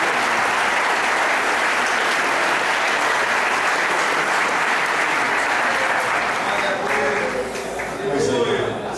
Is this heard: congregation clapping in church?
yes